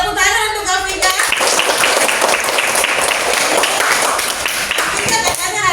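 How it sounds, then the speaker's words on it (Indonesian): A class gives a student a round of applause, dense clapping from many small hands that fills the room for several seconds. A teacher's voice comes before and after it. "tepuk tangan untuk Vika"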